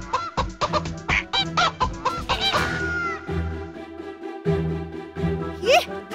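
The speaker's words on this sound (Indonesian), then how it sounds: "Ih, kenapa sih nih ayam?" A chicken clucks repeatedly in a busy scene, with choppy bursts of clucks and squawks, some louder and nearer, over background noise and a few other voice-like sounds.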